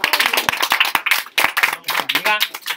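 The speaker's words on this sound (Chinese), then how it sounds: "为什么鼓掌是吧？" People in a Linux programming class break into clapping: a burst of loud, close, uneven hand claps from a small group, with a brief voice mixed in near the end.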